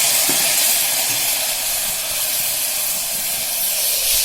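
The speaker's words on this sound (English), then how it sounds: "As the spices are crackling" Spices crackle and hiss loudly in hot oil, a dense continuous sizzle heard close up with no voices.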